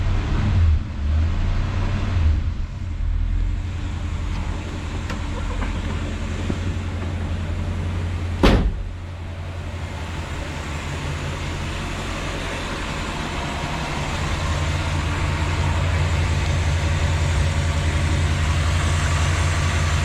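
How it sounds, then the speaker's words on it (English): A 1966 Ford Galaxie 500 engine running just after a start, a close, steady low rumble at idle with a brief click partway through and a slight rise in level later as gas is given. "So I just turned the key without touching the accelerator. Give a little gas."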